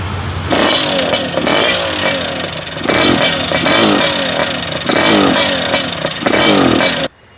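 A Yamaha RX100 motorcycle converted into an RX King, running close by with a loud, raspy two-stroke engine note that rises in repeated revving surges before cutting off abruptly.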